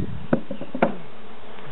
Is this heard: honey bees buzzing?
yes